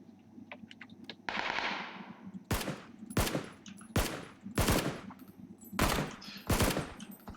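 Bursts of video game gunfire, a long rattling volley followed by a series of loud, sharp single shots at roughly regular intervals, close and dominant with no speech.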